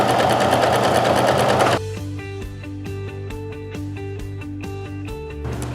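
Sewing machine stitching the ends of a hood together onto a sweatshirt, running fast and loud at first, then settling into a steadier, quieter rhythmic whir of needle strokes before speeding up again at the end.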